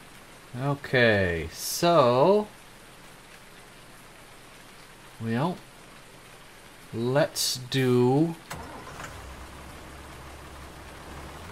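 Steady rain hisses throughout in Farming Simulator 19 on PS4, a constant even wash of falling drops, while someone speaks in short bursts over it and the rain continues alone between his words.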